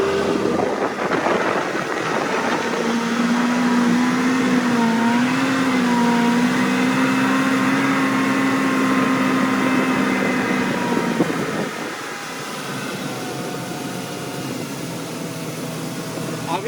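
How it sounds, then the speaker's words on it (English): A Yamaha 250 SHO outboard motor on a 2016 Shallow Sport X3 boat runs at full throttle, a loud steady engine roar with a droning tone that holds, then drops as wind and water take over. A person talks over it. "here I have my motor all the way trimmed down. I'm just gonna basically gun it and twist it."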